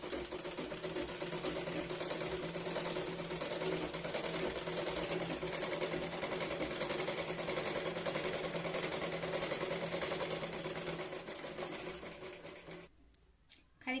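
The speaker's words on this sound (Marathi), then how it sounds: "इथे खाली कमरेकडे आपण सरळ शिलाई लावून घेऊया" A sewing machine runs a straight stitch along the waist of a katori blouse, a steady close whirring drone that holds for about twelve seconds before stopping abruptly.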